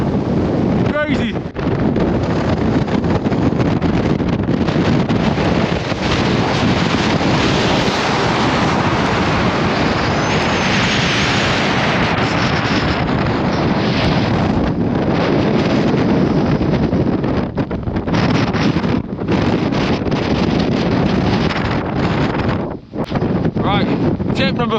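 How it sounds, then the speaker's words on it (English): Strong gusting wind on an exposed mountain summit batters the microphone in a loud, continuous roaring rush that barely lets up for the whole stretch. "It's a bit windy, just stop, ground yourself"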